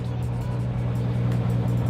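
A Nissan Skyline R32 engine idles steadily nearby, a low even rumble with no voices over it.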